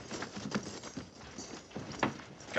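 Horses of a cavalry detail clop and shuffle as they halt and the riders dismount, with irregular hoof knocks and soft stamping close by amid light background noise.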